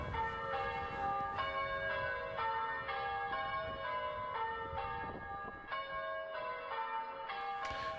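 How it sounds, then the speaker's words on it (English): Church bells ring out in celebration, a sequence of resonant peals struck at a regular, unhurried rhythm. They are clear and moderately loud, with no voices. "they rang the church bells in celebration"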